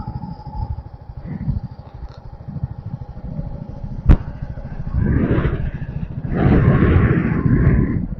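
A motorcycle ridden along a newly built road, its engine rumbling steadily up close with rising surges of revving toward the end and a sharp clack midway; no one speaks.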